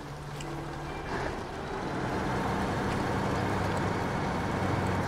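A truck engine in the video game SnowRunner drones steadily, loud and continuous, and swells slightly partway through.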